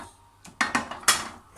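A spoon scrapes and knocks against a pan while cannelloni sauce is stirred, a few short clinking strokes close by in an otherwise quiet kitchen.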